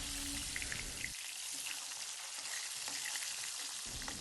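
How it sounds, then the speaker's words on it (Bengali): Pieces of rohu fish sizzle in hot oil, a steady crackling hiss that stays fairly quiet and unbroken throughout. "মাছটাকে উল্টে পাল্টে লাল লাল করে ভেজে নেব"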